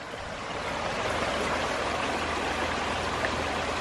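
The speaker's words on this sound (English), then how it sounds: "Let me show you the amount of water that it's pulling." Water rushes out of the screened intake of a ram pump in a steady, close hiss and gurgle with no pauses and no one talking.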